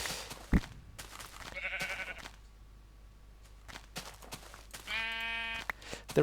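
Sheep bleating inside the Minecraft Technic modpack game, two short game-sound bleats with harmonic stacks, one early and one near the end, over quiet background ambience with no talk.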